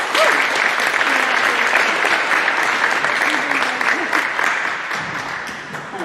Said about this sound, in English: Let's give these two another round of applause